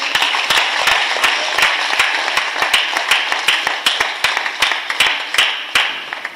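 An audience claps at a ceremony installing a pastor, a dense, loud, continuous round of applause with sharp individual claps standing out, lasting throughout without speech.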